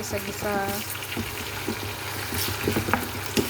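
Onions sauté in a pan for squid adobo, a steady low frying sizzle with light stirring scrapes and clinks, while a person talks over it.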